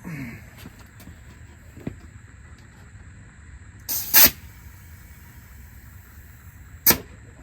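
Nitrogen hisses from a regulator while a Jeep TJ coilover shock is charged. Two short, sharp bursts of gas escape about three seconds apart over a low background hum.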